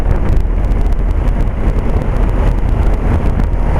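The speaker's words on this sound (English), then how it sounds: "1990 Bryant 5-ton air conditioner running" A 1990 Bryant 5-ton straight-cool air conditioner running outdoors, a steady low rumbling drone with fan whoosh, constant and fairly loud with no voices.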